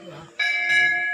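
Temple bells ringing at Ghanteswari temple in Chipilma, a sustained metallic ringing with layered bright tones that starts abruptly and keeps sounding, close and fairly loud, with faint voices underneath.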